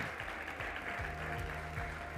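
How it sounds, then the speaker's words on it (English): Audience applause at a startup conference stage, steady crowd clapping heard at moderate distance over a low musical hum, with no talk. "Well, big applause to Adrian."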